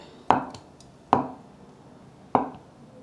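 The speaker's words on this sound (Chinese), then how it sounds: "准备50克的板豆腐，切薄片" Knife cutting thin slices of firm tofu on a cutting board: three crisp, distinct chops spaced unevenly, close and fairly quiet, with no talking.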